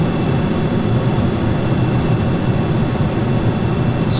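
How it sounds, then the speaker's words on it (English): Space shuttle solid rocket boosters burning in Kerbal Space Program, a steady, heavy engine roar with a deep low rumble that continues unbroken throughout, with no talking. "the booster, the rocket engines that were attached to the boosters have cut off, but I still have plenty of solid fuel burn"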